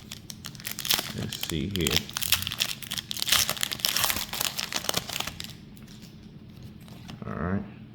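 Foil Pokémon booster packs, from the 151 and Twilight Masquerade sets, crinkle and tear open up close in bursts of crumpling wrapper noise, with someone speaking briefly in between.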